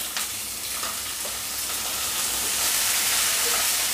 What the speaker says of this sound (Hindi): 5-6 मिनट तक इस घी में और इस मसालों के साथ उसको भूनेंगे।